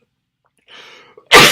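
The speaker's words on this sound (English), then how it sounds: "Wow, something's making me sneeze." A single person sneezes indoors, a soft breathy intake followed by one loud sharp burst right at the end, close and alone.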